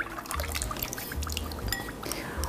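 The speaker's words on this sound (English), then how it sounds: "Add in 1 cup of melted unsalted butter." Melted unsalted butter poured into lemon cake batter for a blackberry lemon cake, giving a soft, continuous liquid pour with faint splashy trickles, close and fairly quiet, with no talking.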